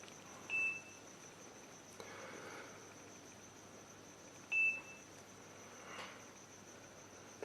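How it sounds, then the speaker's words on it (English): Two short high electronic beeps from a camera during setup, the first near the start and the second about four seconds later, each clear and brief over a quiet background hiss. "That is the beeping sound, which is an indication that now we can start the process of setting up the camera."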